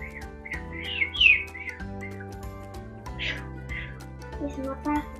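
A person imitates a bird with a few high, chirpy whistled calls, short and fairly close, over soft background music.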